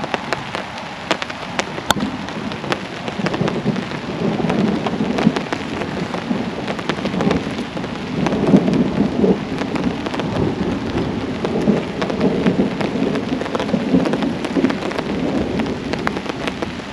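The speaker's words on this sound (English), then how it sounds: "The rain's coming in heavy." Heavy rain lashes a golf course during a scramble, a loud steady roar of drops with sharp spatters and low rumbles, with no voices.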